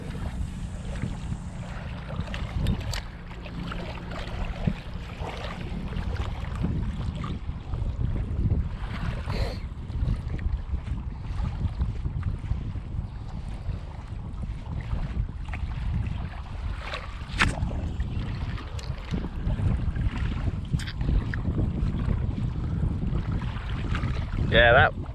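Steady wind buffeting a microphone on a boat while lure fishing, a continuous low rumbling gust with faint knocks and splashes, and voices talking now and then.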